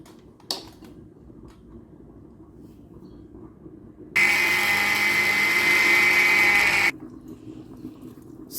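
An electric blender whirs loudly and steadily for a few seconds while blending pepper with tomato and onions, then cuts off, with quieter kitchen sounds before and after.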